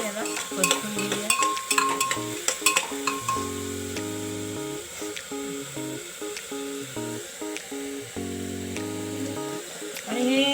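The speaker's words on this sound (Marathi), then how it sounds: "हिंग घातल्यानंतर आपण थोडंसं याला परतून घेऊया." Sweet dal with asafoetida (hing) is sautéed and stirred in a pan, bringing scraping stirs and a soft sizzle, with sharp clinks early on and talking throughout.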